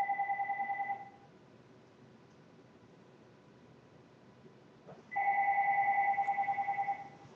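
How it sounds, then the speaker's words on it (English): A phone rings with a steady pulsing electronic ringtone, two bursts separated by a quiet gap, fairly clear over faint background hiss. "My phone's ringing."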